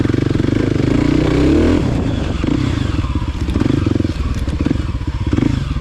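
A 2024 Kawasaki KLX300 dirt bike in second gear drones loud and close with a steady engine note, a brief rise in revs and some clatter and scraping from the trail.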